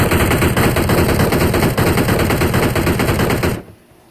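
Rapid automatic gunfire from a weapon in the mobile battle royale game BGMI, a loud continuous burst of shots lasting several seconds before cutting off abruptly.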